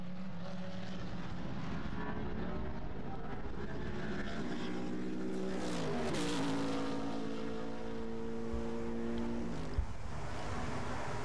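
Race cars roar through a Gran Turismo championship race, engines droning loud and steady with pitch sweeping up and down as cars run nose to tail, a Mercedes leading closely chased, with a brief dip around the middle.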